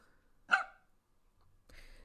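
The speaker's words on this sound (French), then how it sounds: "ça fait bien, c'est un chien." A single sharp dog bark from a computer sound effect in mBlock rings out alone and clear, followed by a faint low rustle and soft noise.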